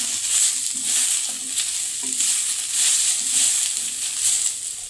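Garlic and green chillies fry in hot oil in a pan, a loud, close, continuous sizzle that swells and eases in gentle waves with faint stirring underneath.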